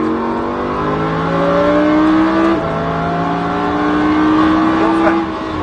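A Lamborghini Huracan accelerates on the Mettet circuit, engine note climbing steadily through a gear with a brief dip at the shift before rising again, loud and close throughout.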